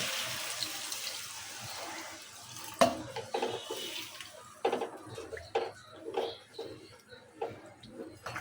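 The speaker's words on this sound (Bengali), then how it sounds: "দিয়ে দিচ্ছি পরিমাণ মতো ঝোল।" Broth is poured into a rohu fish and vegetable stem curry in a pan, a watery trickle that gives way to several clinks and scrapes of a utensil. No one speaks.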